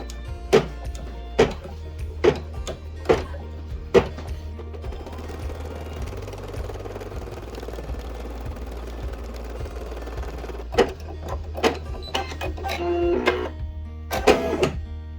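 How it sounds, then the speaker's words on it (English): An embroidery machine stitching a ribbon appliqué design, giving sharp regular mechanical clacks over a steady whirring hum, a calmer stretch in the middle, then a quicker run of clacks toward the end, close up with no talking. "now I'm going to lower the foot of the machine and I'm going to start to embroider"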